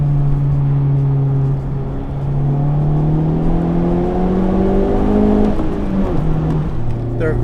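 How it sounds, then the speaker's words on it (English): Honda Civic Type R driving on a cold, salted road, with a steady engine hum that shifts pitch as it accelerates and changes gear, heard from inside the car. "And yes, I'm driving my Type R in the salt."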